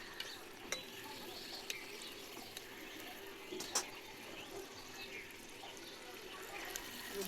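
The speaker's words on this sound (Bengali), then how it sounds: "তেল গরম হয়ে গেছে একে একে ভেজে নেব ফুচকাগুলো" Puri shells for phuchka deep-frying in hot oil in a village kitchen, a faint, steady bubbling sizzle with a few light clicks and knocks.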